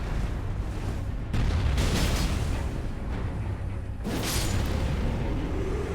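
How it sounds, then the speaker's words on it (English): An explosion in the video game Elden Ring, with loud booming bursts and roaring rumble that swell and cut off abruptly amid dense, continuous game noise. "my attack plus the explosion seems to have done it in"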